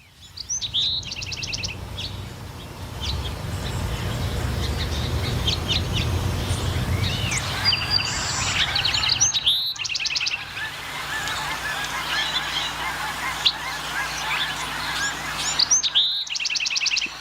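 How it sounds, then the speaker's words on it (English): Bewick's wren singing outdoors, with repeated bright, trilly chirping phrases that recur over a steady background of low rumble and other birds, moderately close and clear throughout. "know that this sound is the Buick's wren"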